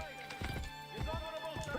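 Ezio's horse in the video game Assassin's Creed Brotherhood, with a few soft hoof clops and snorting sounds under quiet game audio, brief and fairly faint.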